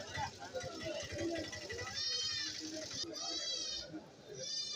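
Goats bleating at a busy livestock market in Kerala, with several drawn-out calls rising over a steady crowd of voices and children chattering nearby.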